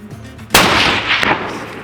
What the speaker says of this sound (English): one shot dropped that tar in his tracks